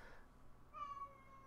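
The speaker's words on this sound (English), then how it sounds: "I hope KK09's not hearing the cat meow." A house cat gives a single short, rising meow, close and clear against a quiet room with faint low background hum.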